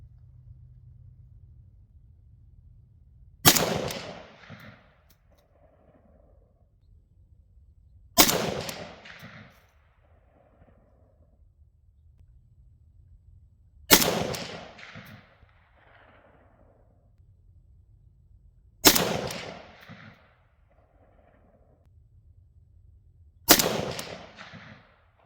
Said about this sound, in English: I'm going to be shooting Bellum ammo at 123 grain projectile, full metal jacket.